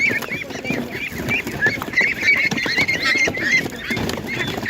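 A duck calling amid other fowl at an animal market, a run of repeated nasal honks and quacks near the listener over steady background market noise.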